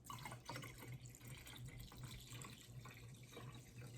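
Strained mullein tincture, made from two ingredients, is poured through cheesecloth into a quart jar, giving a faint, continuous trickling and splashing of liquid over a low steady hum.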